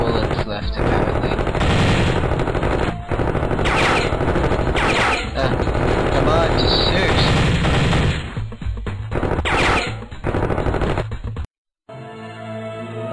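Rapid, loud gunfire sprays at terrorists in a Miniclip browser game, dense machine-gun bursts rattling almost continuously, then dropping out briefly before quieter game sounds resume.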